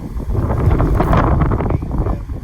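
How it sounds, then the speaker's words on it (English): Gusty wind buffets the microphone in a low rumbling rush, with some rustling, lasting a couple of seconds with no one speaking. "It's a little bit windy"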